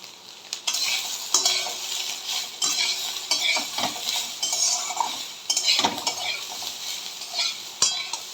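Soybean chunks frying over a high gas flame with a little turmeric, stirred in a pan: continuous sizzling crackle broken by repeated scraping and clinks of a utensil against the metal.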